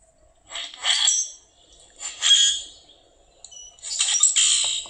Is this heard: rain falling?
no